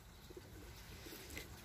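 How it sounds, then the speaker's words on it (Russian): Pigeons cooing on an old balcony in the morning rain, soft low coos faint and distant against a steady background hiss of rain and outdoor ambience. "И там голуби выводят голубят. Они постоянно урлычут."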